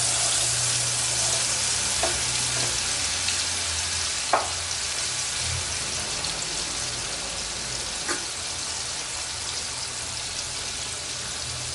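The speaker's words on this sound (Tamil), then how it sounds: "இப்போ வறுக்க ஆரம்பிச்சிடலாம்" Marinated bitter gourd slices fry steadily in hot oil, a continuous loud sizzle with a few sharp crackles and pops rising above it.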